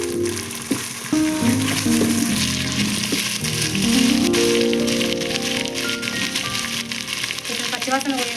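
Onions and tomato pieces sizzle steadily in hot oil for chicken pulao, a loud continuous frying crackle with occasional stirring scrapes and background music or voices throughout.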